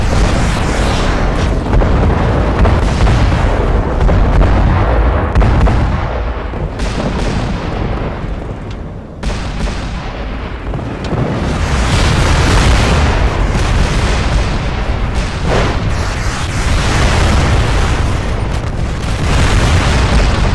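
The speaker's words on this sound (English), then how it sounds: "A lot of ordnance being fired here" Heavy weapons fire and explosions from the MechWarrior Living Legends video game on a Chaos March battlefield, a dense, loud, continuous barrage of booms and blasts that barely lets up throughout.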